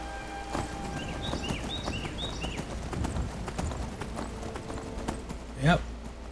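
Steady clip-clop of Skyrim horse hooves at a walking pace over a busy ambient background, with faint bird chirps and a brief snort near the end.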